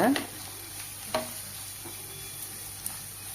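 Grated carrot being stir-fried with onions in a pan for rava kara paniyaram, a soft steady sizzle with a few spoon scrapes and stirring knocks, close and fairly quiet.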